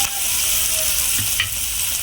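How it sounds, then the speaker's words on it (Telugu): Ingredients for a meal maker aloo kurma fry in a pan with a steady, fairly loud hiss and a couple of brief stirring scrapes. "ఇవి బాగా ఫ్రై అయ్యాయి."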